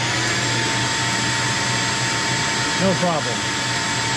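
A heavy duty shop vac roars loudly and continuously, powered alongside a heat gun from a 12V 100Ah LiFePO4 battery, with a brief spoken remark partway through.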